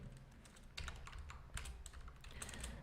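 Quiet, rapid keystrokes on a computer keyboard as CSS code is typed, clustered bursts of clicky taps with brief pauses between them.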